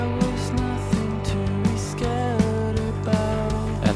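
Drum part of a mix playing back with reverb, a steady beat of punchy hits about twice per second over sustained tonal backing, loud and upfront.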